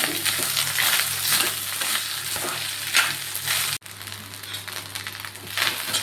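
Cooked rice being stirred and sautéed in a pan after tempering, with a steady broadband sizzle and scraping of the spoon, close and fairly loud, with a brief dip partway through.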